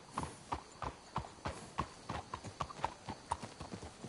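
Horse hooves clip-clop in a steady, even gait in Red Dead Redemption, crisp repeated strikes at a walking pace, moderately close and unaccompanied by talk.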